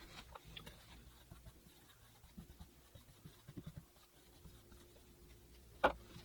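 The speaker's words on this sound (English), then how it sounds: "Let's write that on the board." Marker or pen writing on a board, faint scratchy strokes in short bursts with small taps, ending in one sharp louder knock, quiet and close with no talking.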